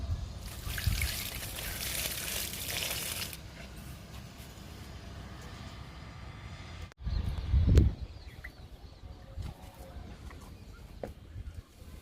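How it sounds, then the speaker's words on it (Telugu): Liquid fertilizer is poured onto potted plants, including an ajwain plant. A faint trickling splash runs for the first few seconds, and a short, stronger pour follows later against a quiet background. "వాము మొక్కకి ఇస్తున్నాను లిక్విడ్."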